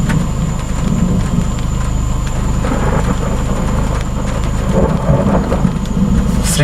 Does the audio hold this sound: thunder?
yes